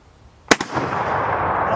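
A Finnish Mosin Nagant M27 rifle fires steel-cased ammunition once, a loud sharp crack with a quick echo, followed by a long, steady roar of wind or rumble.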